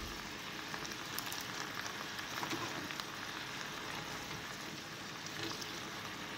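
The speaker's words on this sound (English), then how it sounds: "And you just stir fry it." Kale flower, white chard and beef stir-frying on a stove set to high give a faint, steady crackling sizzle with scattered small pops, continuous and without talking.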